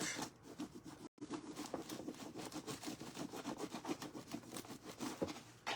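Foil is rubbed by hand onto a mannequin bust, a close, steady, rhythmic scraping and rustling with no talk.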